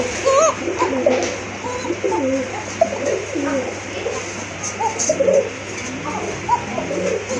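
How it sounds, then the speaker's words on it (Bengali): A pigeon coos close by in a cage, repeating warbling, throaty calls in bursts, with other pigeons' coos faintly in the background. "যেমন কবুতর লাফায় লাফায় ডাকে তেমন ওর ডাকও আছে"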